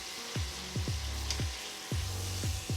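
Seasoned vegan food sizzles in a hot pan being seared, a steady close, moderately loud hiss broken every half second or so by short, sweeping, falling tones, with no talking.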